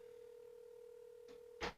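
Faint telephone dialing tones on a call: a steady electronic tone holds, then two short beeps follow near the end, with no voices.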